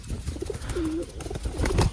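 A pigeon perched on a hand coos in soft, low, close calls, including one longer drawn-out coo, amid light rustling and handling noise, with no talking.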